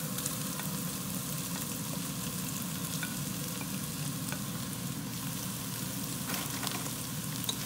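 Onion, sausage and potato frying in a pan, a steady dense sizzle with faint crackles and pops throughout, fairly quiet and even with no talking.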